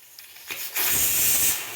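A pressure cooker whistles while taro (cheru chembu) cooks on a home stove: a loud, steady steam hiss rises sharply after a short quieter lead-in and holds for over a second.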